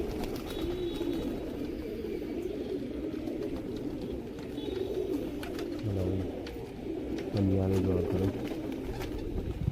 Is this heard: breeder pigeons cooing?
yes